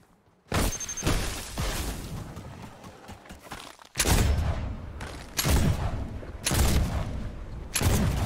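Gunfire in a video game: loud, dense bursts of shots in several long volleys, separated by sudden short gaps, with heavy booming impacts.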